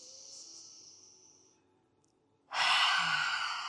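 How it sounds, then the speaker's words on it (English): A deep breath taken in a slow-flow yoga session before a forward fold: a soft, airy inhale that fades out, a short pause, then a louder, close breathy exhale. "we'll take one deep breath here"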